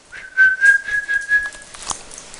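A person whistles to call a dog: a close, clear, sustained high whistle preceded and followed by a few short, chirpy bursts.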